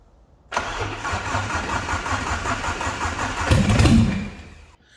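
An Alfa Romeo 145 Cloverleaf engine, running with no exhaust fitted, cranks briefly and catches, then settles into a loud, raw, pulsing idle with a short rev toward the end, heard close and alone.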